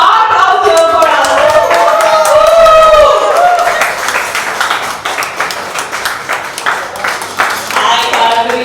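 Audience applause at a song launch event builds as a performer is called on stage, loud clapping and cheering mixed with crowd voices and some music, settling into scattered claps toward the end.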